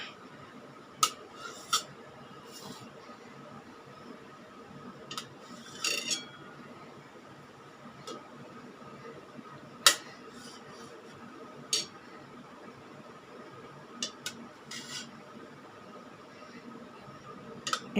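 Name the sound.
cutting boiled eggs with a knife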